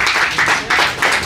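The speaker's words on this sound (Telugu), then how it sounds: "మరి గట్టిగా చప్పట్లు వారికి" An audience at a film teaser launch event for Kashi Nagar 1947 bursts into sustained clapping, a dense, loud wash of hand claps rising and falling in waves.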